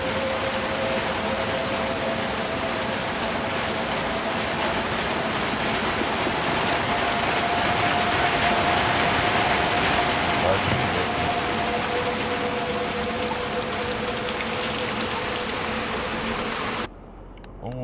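Steady rain in the video game Little Nightmares II, a dense, continuous hiss that holds evenly for about seventeen seconds, with a faint low tone running underneath, before it abruptly cuts to near silence.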